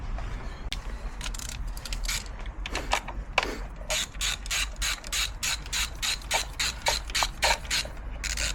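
A ratchet works loose the sprocket cover on a Triumph RS1200 motorcycle during a chain and sprocket swap. It gives close, crisp rapid clicking that settles into a steady rhythmic series of clicks, with no voices.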